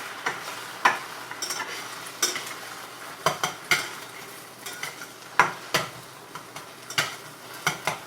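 Scrambled eggs cooking in a frying pan over low heat, with a soft background sizzle punctuated by repeated irregular scraping and tapping of a utensil stirring against the pan.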